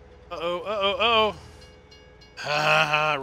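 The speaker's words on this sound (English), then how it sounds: "Ha, race the train." A train in Farming Simulator 19 sounds two loud horn blasts, a wavering one followed after a short gap by a steady, sustained one.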